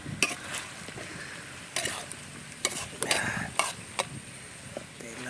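Chicken curry stirred in a pot over a smoky wood fire outdoors on a farm, with scraping stirs and sizzling frying in bursts, plus light clinks of pot and utensil, close and moderately loud.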